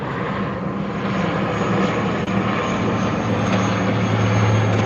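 A propeller airplane passes overhead above a boat deck, its steady engine drone loud and continuous throughout, with a low humming tone that swells slightly toward the end.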